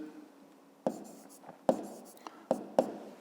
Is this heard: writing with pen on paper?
yes